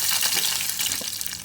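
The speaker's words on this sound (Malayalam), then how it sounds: "ഈ ചൂടായ എണ്ണയിലോട്ട് നമുക്ക് അര ടീസ്പൂൺ കടുക് ചേർത്ത് പൊട്ടിച്ചെടുക്കാം" Half a teaspoon of mustard seeds spluttering in hot oil in a cooking pan, a close, continuous crackling sizzle dotted with sharp little pops.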